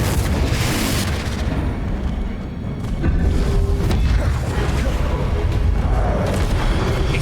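An explosion from the Confringo blasting spell in Hogwarts Legacy, heavy booming rumble and crackling bursts filling the clip loudly, with a brief dip before a second powerful blast rolls on.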